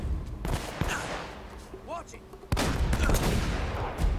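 Gunfire from the video game Uncharted: Drake's Fortune, with a sharp shot near the start, then a louder burst of shots after a brief lull, all mixed with game effects and players talking.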